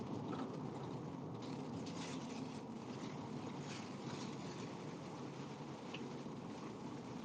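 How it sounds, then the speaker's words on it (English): Steady rain mixed with small hail falling outdoors, a dense, continuous patter and hiss with no clear gaps, fairly close and even in loudness throughout. "So what is falling now is mini hail."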